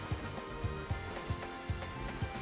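Rain falling in the video game Xenoblade Chronicles, a steady hiss of rainfall over music, with soft regular low thumps repeating about twice a second throughout and no talking.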